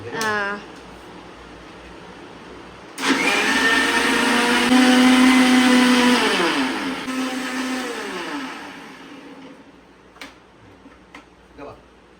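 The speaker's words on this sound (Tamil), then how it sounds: "இந்த மிக்ஸி ஜாரை அழுத்தி பிடிக்கணும், லைட்டாக கவரும். அதான் நான் அரைக்கேன்." A mixer grinder blending palm fruit milk whirs loudly for about five seconds, its pitch rising then winding down, with a voice talking before and after.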